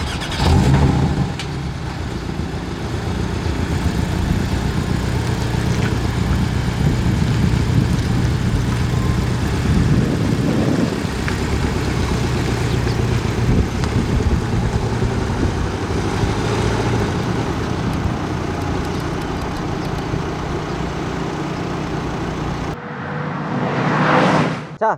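A Porsche 718 Boxster GTS setting off on a test drive, its engine droning steadily and loudly throughout with rising revs, heard close and continuous before cutting off near the end.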